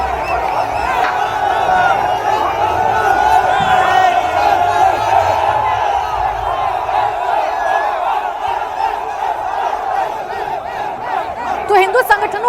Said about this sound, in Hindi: सड़कों पर जबरदस्त प्रदर्शन किया गया है।